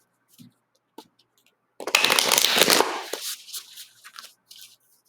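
A burst of riffling tarot cards, a dense papery flutter lasting about a second, followed by softer shuffling taps and light handling noises, close by.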